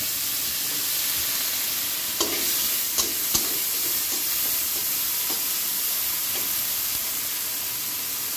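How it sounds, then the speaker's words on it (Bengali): Bitter gourd pieces fry in hot oil with a constant close hiss and crackle, broken by a few sharp utensil taps against the pan. "ওই তেলে আমি উচ্ছেটাকে দিয়ে সুন্দর করে ভেজে নেব"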